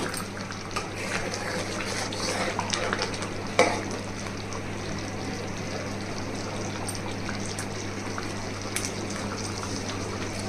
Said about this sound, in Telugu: ఒకసారి బాగా కలిపేయాలి